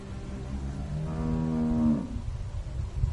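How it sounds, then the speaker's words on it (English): A cow in The Walking Dead video game lets out a single long, drawn-out moo, rising and then falling away, heard close and clear over a quiet ambient background. "How do you like that cow, Clem?"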